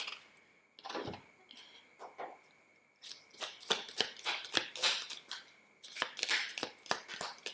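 Tarot cards are riffled and pulled from the deck, giving a string of crisp, fast papery flicks and slaps that come in bursts of varying loudness, close and clear, with no talking.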